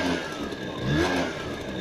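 A limited-edition MBK Trekker scooter engine revs close by in a steady, loud buzz that swells briefly in the middle before settling back, with no talk.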